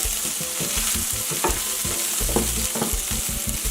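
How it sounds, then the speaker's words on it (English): Haitian épices seasoning frying in a pot while being stirred, a steady hiss under repeated scraping and clinking of the spoon against the pan, close and continuous with no talk. "Now that your épices is nice and fried"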